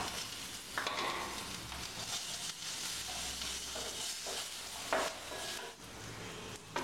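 Coconut and dried red chillies fry in a pan with fried cashews, a continuous sizzle broken by scraping stirs and clinks of a spoon, close and with no talking.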